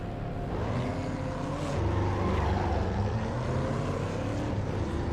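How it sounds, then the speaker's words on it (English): A racing car engine in a sim racing video game hums as a steady, throbbing drone that rises slightly in the middle and holds at a constant loud level throughout, with no voices. "Engine sounds fruity."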